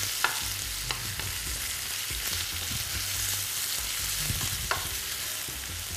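Carrots frying in a pan, a continuous close sizzle with occasional scraping stirs and light clicks of a utensil against the pan.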